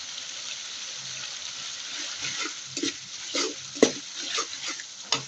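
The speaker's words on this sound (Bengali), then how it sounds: "একটু মশলাটা কষিয়ে দিচ্ছি।" Spice paste with ginger-garlic paste is stirred and fried in a pan for a cauliflower and tomato dish, giving a low sizzle under irregular scraping and knocking spoon strokes, close and moderately loud.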